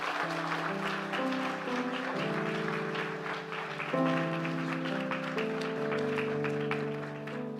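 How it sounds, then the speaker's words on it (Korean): A church congregation claps steadily during an Easter Sunday worship service, a continuous patter of applause beneath sustained keyboard or organ chords that shift in pitch. "우리 하나님께 영광의 박수 올리겠습니다."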